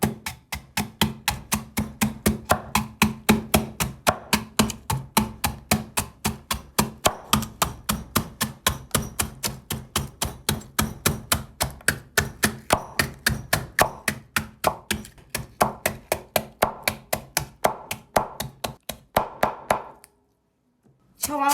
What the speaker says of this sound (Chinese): 咱们用刀背像这样子把它敲碎，这样敲的特别的均匀。